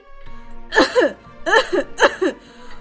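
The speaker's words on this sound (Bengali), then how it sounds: "সে নাটক করে খক খক করে কাঁচতে থাকে" A cartoon character fakes a cough, voiced as three loud, exaggerated bursts of coughing in a short rhythmic sequence, close and alone.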